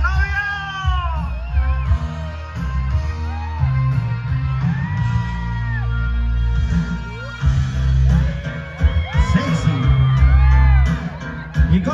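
Wedding guests at a reception cheer and shout for the groom, a loud crowd clamor of whoops and yells over dance music, with high-pitched cries rising and falling throughout.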